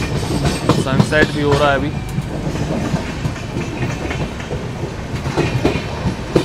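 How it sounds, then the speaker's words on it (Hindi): The Durg Nizamuddin Humsafar Express rolls out of Shahdol railway station, its wheels giving a continuous rumble and clatter heard from inside the train while someone talks over it. "अभी जस्ट ट्रेन अपनी निकल रही है शाहडोल रेलवे स्टेशन से"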